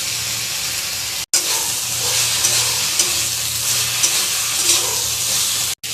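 Okra fries and gets stirred in a spiced masala, a continuous close sizzle and hiss with faint stirring scrapes, briefly cut by a short silence early on.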